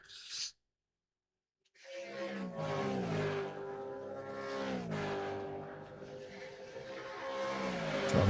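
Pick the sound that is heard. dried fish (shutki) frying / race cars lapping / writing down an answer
race cars lapping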